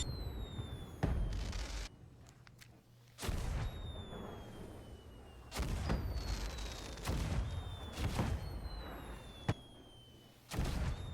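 A long john firework in a looting video game launches and explodes in a series of sharp booms every couple of seconds, each followed by thin falling whistles, with no speech.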